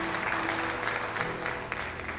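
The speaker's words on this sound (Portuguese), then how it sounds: "Você pode aplaudir o nome do Senhor." A church congregation applauds together, a dense, even roar of many clapping hands sustained throughout, fairly loud and close, with a faint murmur of voices underneath.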